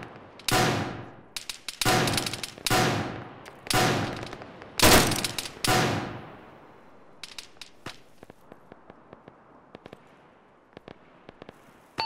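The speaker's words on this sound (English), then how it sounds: "They're firing over us." A squad fires rifles overhead in a military video game. Several loud, sharp bursts ring out close by with echoing tails, followed by quieter, distant scattered shots and crackles.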